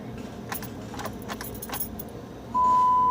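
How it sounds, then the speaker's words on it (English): Keys jangling in the ignition of a 2018 Jeep Wrangler Unlimited that won't start, several light metallic clinks close by, followed by a steady electronic warning chime when the key turns, no engine cranking. "And look, I'm turning the key"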